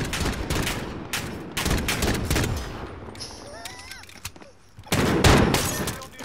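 Gunfire from the video game Call of Duty: Modern Warfare, with loud bursts of rapid automatic shots broken by short pauses and a quieter stretch in the middle, and players' voices in between.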